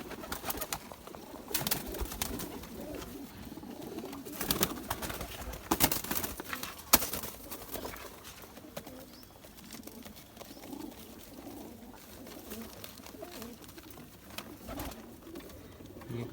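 Zeera pigeons, a black male and its paired female, coo in low repeated murmurs that run steadily throughout, close by, with a few sharper knocks and rustles scattered among them.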